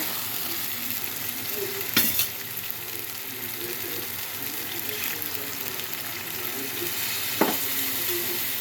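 Water poured into a pot of chicken curry with tomato, cashew and coconut paste hisses and sizzles steadily, with a couple of sharp clinks of a spoon against the pan.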